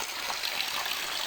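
Clear, cold mountain stream water flows down from the hills in a steady, close gushing rush with a bright trickling texture and no break.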